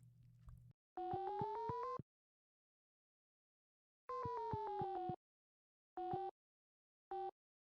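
A flute block in Stardew Valley plays a telephone-like electronic tone in short bursts: two longer sustained rings about a second each, then two quicker blips, clean and isolated with silence between.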